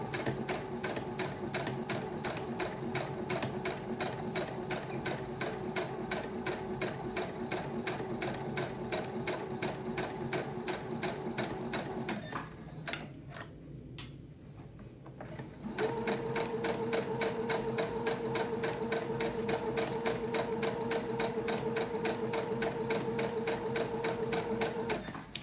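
A sewing machine rattles rapidly and evenly while stitching fabric for an aromatherapy bag, close and loud, pausing briefly midway before resuming at a slightly higher pitch.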